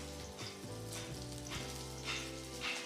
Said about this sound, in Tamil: எண்ணெய் சூடானதுக்கப்புறம் நம்ம வெங்காயம் சேர்த்துக்கலாம்.